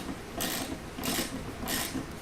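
A socket wrench tightens bolts on a Smittybilt Overlander XL Gen 2 rooftop tent, sounding as three evenly spaced bursts of raspy ratcheting, each about half a second long, loud and close.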